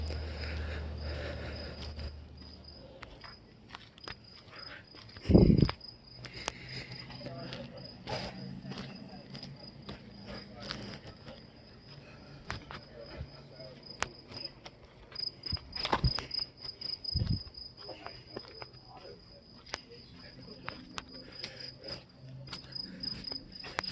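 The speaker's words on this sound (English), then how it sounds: "So there were literal crickets there." Steady crickets chirping throughout, a constant high trill over quiet outdoor ambience, with a few soft thumps and faint movement.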